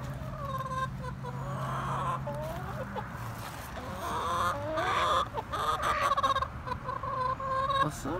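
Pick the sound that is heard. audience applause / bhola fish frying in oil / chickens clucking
chickens clucking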